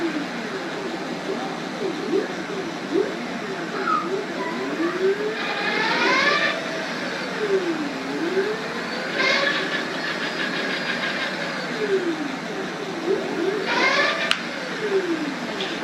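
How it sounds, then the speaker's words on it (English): A high whirring whine from an Arrow 9 electric bike's brushless motor rises and falls in pitch, sweeping up and down repeatedly with a steady hum underneath. "that noise that you're getting is the brushless motor inside of there"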